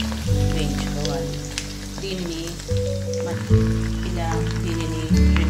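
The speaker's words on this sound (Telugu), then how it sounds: "ఇప్పుడు కాగిన నూనెలో మనము సొజ్జప్పాన్ని ఇలా రెండు వైపులా వేయించుకోవాలి." Sojjappam frying in hot oil and turned to cook both sides, giving a steady close sizzle with bubbling crackle over a low continuous hum.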